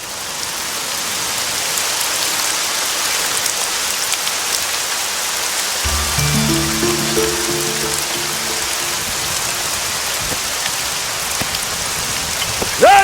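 Steady rain pours down on a surface, a dense constant hiss, with a low rumbling hum joining partway through.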